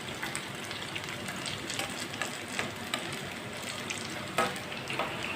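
Semolina breakfast frying in a pan until browned, a continuous close sizzle with scraping and stirring sounds and an occasional sharper clink, steady throughout with no voices.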